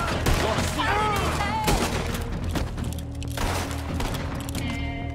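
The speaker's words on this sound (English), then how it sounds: "I hear someone shooting." Scattered gunfire in Red Dead Redemption 2, a dense battle of overlapping shots and booms under game music, with a voice speaking over part of it.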